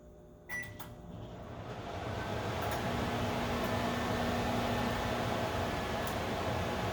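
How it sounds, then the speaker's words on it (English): A microwave oven melting coconut oil starts with a click and a couple of faint beeps, then settles into a steady, close hum with a faint tonal whine, no talking. "I'm going to set the microwave to 30 seconds and check it about every 5"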